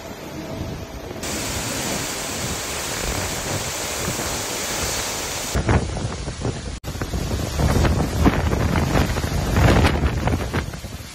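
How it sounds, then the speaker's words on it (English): Strong gusting wind from Category 3 Tropical Cyclone Kirrily near Townsville, Queensland, with gusts up to 165 km/h, roars steadily as a loud broadband rush, rising into heavier buffeting and surging blasts in the latter half. "producing wind gusts up to 165 kilometer per hour"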